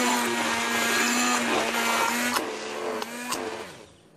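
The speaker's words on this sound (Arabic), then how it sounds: "راح أخلطه بهذا الخلاط اليدوي حتى ما يدخل متشتلات" A handheld electric mixer whirs with a steady motor hum, its pitch dipping briefly as it works through thick batter, then winding down at the end.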